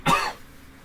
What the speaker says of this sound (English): I've got a cough because I drank and it's gone down my throat wrong